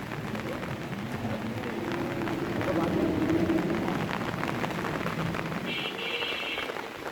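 Steady rain after a night-long downpour hisses continuously over flooded village ground under heavy cloud, with faint voices mixed into the wash.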